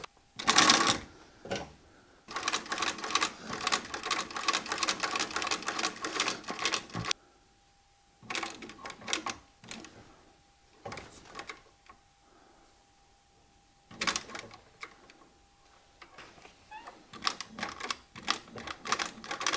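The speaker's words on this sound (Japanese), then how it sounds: "次はカウンターを縫っていきます。" Sewing machine stitching the counter of an olive leather full-brogue shoe upper, rapid mechanical needle clatter in several bursts separated by quiet pauses.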